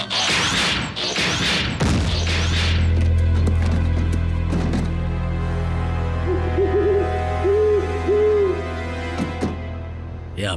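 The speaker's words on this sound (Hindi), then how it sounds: "या फिर एक उल्लू।" Cartoon owl hoots in a short wavering series under music and effects, following a stretch of loud action noise at the start.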